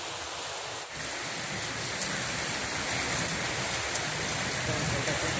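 Heavy rain pours steadily in a village, a dense, even, close-up hiss of water beating on surfaces that runs without a break. Light background noise sits under it, and no clear voices come through.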